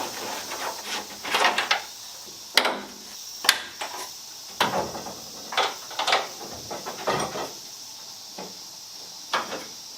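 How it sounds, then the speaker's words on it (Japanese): Body panels and fittings being removed from a stripped Mazda RX-7 FD3S during restoration, with a series of sharp knocks, clunks and rattles at irregular intervals, fairly close and moderately loud, with no talk. "次バックドア外します。"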